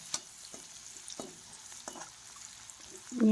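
Green chili and garlic frying with a pinch of turmeric in a pan, a soft sizzle broken by a few clinking stirs of the spoon and a louder scrape at the end.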